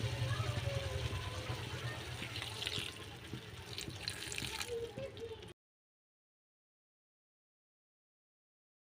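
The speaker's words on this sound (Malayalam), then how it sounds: "അതിന് നമുക്ക് വെള്ളം ഒഴിച്ചു കൊടുക്കാം" Water is poured into a pan of chayote (chow chow) for thoran, a steady close gush and splash for about five seconds before cutting to silence.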